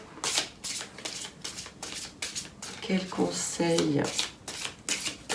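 Small oracle cards are shuffled in repeated quick riffling bursts, soft and close, while someone speaks over them.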